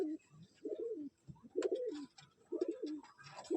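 Pigeons in a loft give about four separate rolling coos, each a soft, throaty burst, close and fairly quiet against a still background.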